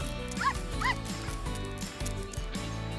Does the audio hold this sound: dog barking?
yes